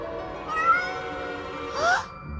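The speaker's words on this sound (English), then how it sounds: "I found the noise. It was Marco's cat" A cat gives two distinct, fairly loud meows about a second apart at the Colosseum in Rome, over a steady low background hum.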